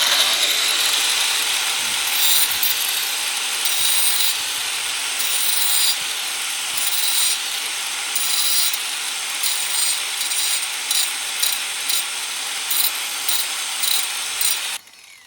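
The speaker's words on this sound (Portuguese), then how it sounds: "eu pego e dou mais uma desbastada com a máquina aqui" A handheld power tool grinds and roughs down the edge of a piece of natural stone for an ecological stone fireplace, a steady loud abrasive whine running almost continuously before cutting off at the end.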